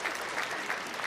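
Brief burst of audience applause for a guest, Dr. Morrow, during a discussion about barbers and hairstylists, with dense steady clapping from a crowd throughout.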